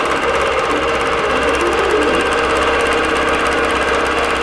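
An embroidery sewing machine on manual stitches applique half circles across fabric, a loud, continuous rapid mechanical whirring with a fast even needle rhythm, close and alone.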